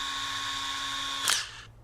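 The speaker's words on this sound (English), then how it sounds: "I am going to drill a hole in all 4 corners" A cordless power drill whines at steady speed while boring a hole in the corner of a tailgate panel, then bites through with a short crunch and stops.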